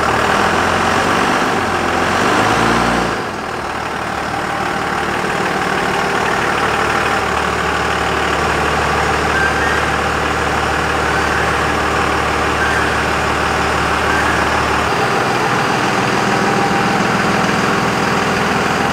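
Old pickup trucks, including a third-generation model, idle while parked inside a shop, a steady low engine rumble that shifts once early on and drops slightly in level near the end.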